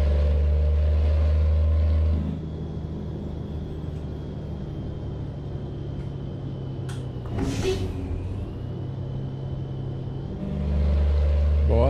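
A Volvo truck engine in Euro Truck Simulator 2, with a loud, deep rumble at first that drops away to a quieter running drone, then swells again as the truck accelerates.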